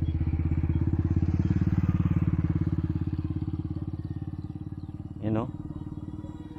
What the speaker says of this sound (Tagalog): Full ano nito, full throttle na 'to eh.